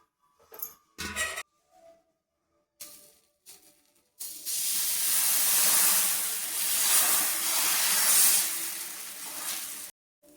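Wheat dosa batter hits an oiled pan and breaks into a loud, steady sizzle that holds for about six seconds, after a few brief clatters and pauses.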